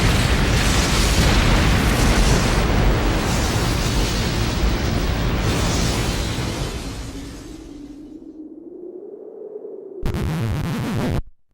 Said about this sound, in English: The whole thing ends with a huge explosion.